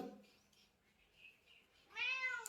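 A cat gives one clear, drawn-out meow near the end, after a few quieter sounds in a fairly quiet room.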